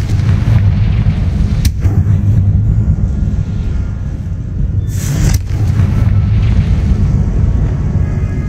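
Spell blasts in Hogwarts Legacy roar as a loud, continuous rumbling barrage, with two sharp cracking bursts standing out briefly above the heavy low boom.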